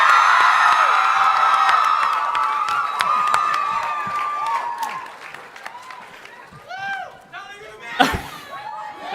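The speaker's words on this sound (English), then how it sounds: "I kind of forgot how loud screams can be." A Comic Con panel crowd screams, cheers and applauds loudly at a Teen Wolf panel in New York, sustained shrieking that gradually thins into scattered whoops and claps, with a sharp burst near the end.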